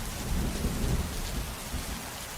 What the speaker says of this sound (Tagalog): patuloy pa rin sa pagbuhos ang ulan